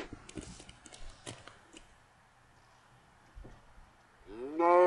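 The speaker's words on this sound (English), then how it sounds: "now the cow's staring at me" A cow in the Minecraft video game lets out a single clear moo near the end, following a quieter stretch of soft game noises and taps.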